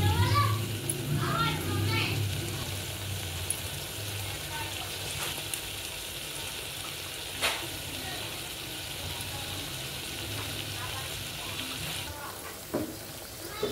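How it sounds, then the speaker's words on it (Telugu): Mutton curry with turmeric and chili stirred in a pot, a low steady sizzle with occasional scraping and clinks, and faint children's voices in the background. "ఇప్పుడు బాగా తిప్పుకుందామండి."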